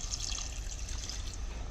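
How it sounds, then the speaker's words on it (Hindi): Water is poured into a pan of pepper chicken as it cooks, a soft steady trickle and splash heard alone for a moment at close range. "इसमें डालना है आपने पानी"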